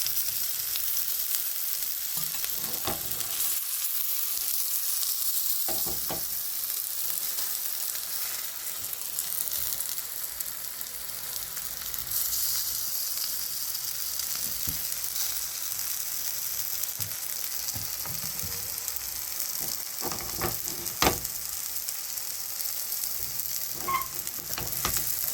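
Spinach tikki frying in oil on low heat, a steady close sizzle and hiss that carries on throughout with occasional soft crackles and a faint clatter.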